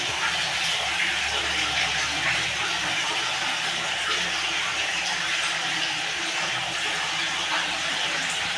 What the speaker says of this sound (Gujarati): તમે જોઈ શકો છો ગૌમુખમાંથી પાણી પડે છે.